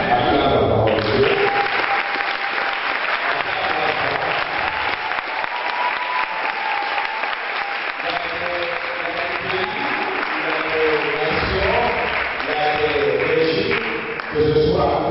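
A church congregation applauds loudly and continuously for about fifteen seconds, a dense, sustained clapping that fills the room.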